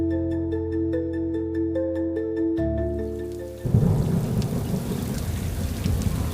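A steady electronic tone plays first, then heavy rain pours loudly with low rumbling thunder.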